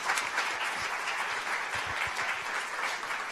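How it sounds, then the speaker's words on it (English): Audience clapping after an author's talk at a book event, a dense, steady wash of many hands sustained evenly and fairly close throughout. "You can applaud if you wish."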